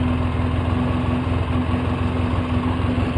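A 2004 Polaris Sportsman 700 ATV engine idles high and roughly, a steady close drone with a low hum and constant vibration and no talk over it.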